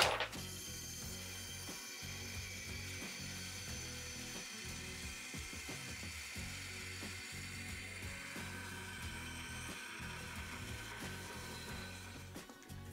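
Cutting out a knife blade in a workshop, a faint, steady mechanical saw whir with rhythmic chattering pulses repeating throughout, no talk.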